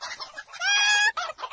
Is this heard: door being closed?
no